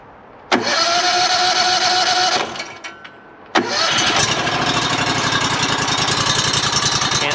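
Small Honda engine after an oil change, cranked once with a brief buzz that dies out, then started again and running steadily with a loud, even drone.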